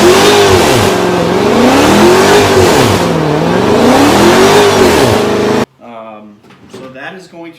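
A Hellcat's engine revs hard in a steady rise-and-fall rhythm for a tire burnout, loud and close, then cuts off abruptly and a voice talks over faint background noise.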